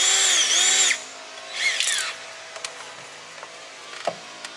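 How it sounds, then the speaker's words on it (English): A power drill bores holes for threaded inserts during a hood repair on a 2020 Freightliner Cascadia. A close, steady whine lasts about a second, then comes a shorter rising burst, followed by faint clicks and taps. "drill some holes for these threaded inserts."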